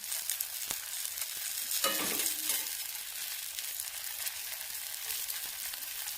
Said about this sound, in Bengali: এবার এটা বেশ ভালোভাবে ভাজা হয়ে গেলে তুলে নেব।